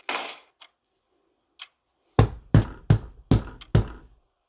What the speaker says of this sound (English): Kyle decided it would be best to try to force the door open with the use of his forehead.